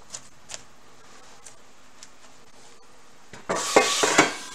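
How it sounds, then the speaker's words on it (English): A pan being moved on a stovetop while cooking cube steak and cabbage stew: faint scattered ticks, then a burst of loud scraping and clattering metal near the end. "Now take the pan, move everything around the pan."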